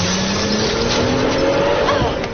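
A car's tires squeal as it skids hard to a stop in an action scene, with a loud, steady engine roar and tire whine filling the whole stretch without a break.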